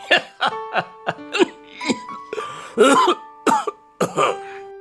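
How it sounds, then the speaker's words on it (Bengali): An elderly father in a Bengali cartoon coughs repeatedly: about a dozen raspy, voiced bursts in quick, uneven succession, loud and close. "তুমি তো এখনো কাশছো বাবা"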